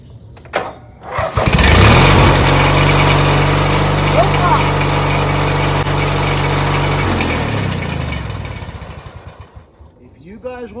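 Riding lawn mower with a two-cylinder engine cranks briefly, catches and starts, then settles into a loud, steady idle for several seconds before being shut off and winding down.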